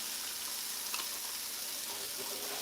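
Turkey taco filling sizzling steadily in a pan with sauce while it is stirred, a continuous frying hiss with occasional faint scrapes of the utensil, close and constant throughout.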